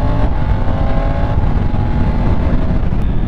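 A Triumph Tiger 900 GT Pro motorcycle ridden on back roads, its engine a close, steady rumbling drone with a brief rise in pitch partway through, wind noise under it and no talk.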